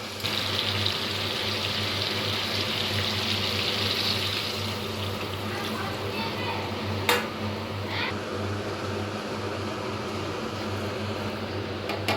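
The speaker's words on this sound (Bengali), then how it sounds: "এবার দিয়ে দেব পরিমাণ মতো জল।" Water is poured steadily into a pot of browned chicken curry, a continuous close rushing gush with a low hum beneath, ending with a couple of brief clanks near the end.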